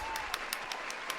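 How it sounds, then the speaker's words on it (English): A small audience claps to welcome the artist Maya at an artist interview: a handful of sparse, evenly spaced hand claps, fairly quiet and brief. "Please give a round of applause for Maya"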